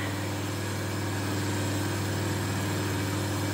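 A single-phase induction motor runs at 2404 rpm on 90 volts, giving a steady, unbroken electrical hum with a low droning tone that holds even from start to finish.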